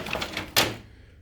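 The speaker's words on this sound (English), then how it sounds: "we'll drop down the front door" The front door of an HP LaserJet 9000 printer dropping open: some soft handling rustle, then a single sharp plastic clack that rings and fades out quickly, heard close and alone.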